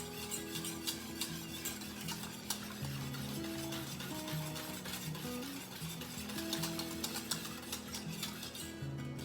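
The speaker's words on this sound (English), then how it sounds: "I'm stirring throughout." A spoon scrapes and stirs steadily in a pot of boiling grapefruit jelly with sugar and pectin over a constant bubbling sizzle, with occasional light clinks, no voices.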